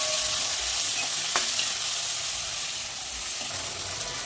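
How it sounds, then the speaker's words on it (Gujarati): Tomatoes, green chillies and curry leaves sizzle in a pan of frying masala for a chana gravy while being stirred, a steady close hiss with light scraping throughout and no talk. "હવે આપણે આ બધું મિક્સ કરી લઈએ."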